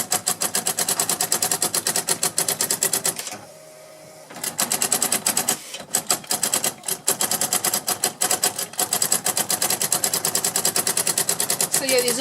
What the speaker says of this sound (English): these old daisy wheel printers and stuff like this, they basically worked just like a typewriter